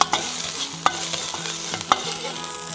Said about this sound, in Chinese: 锅里面放点油，下姜末、